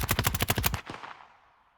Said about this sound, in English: So here's body layer without OTT.